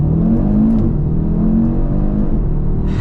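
A 2025 Audi RS3 Carbon Black pulls away hard in first gear with a manual shift, its engine note rising in a loud, steady, close-up roar with no talk over it.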